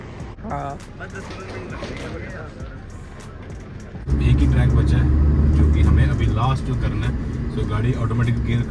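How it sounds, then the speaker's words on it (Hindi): A new 2023 Toyota Hilux drives under automatic gear shifting, a low engine hum that swells abruptly into a louder, steady rumble midway, heard from inside the cabin beneath someone talking throughout. "ऑटोमेटिक गियर को शिफ्ट कर रही है, सब कुछ खुद कर रही है।"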